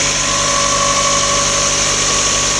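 A Mazdaspeed MX-5 with a 16G turbo and a temporary PVC pipe intake idles steadily just after its first startup. The engine hum is close and continuous, with no talk.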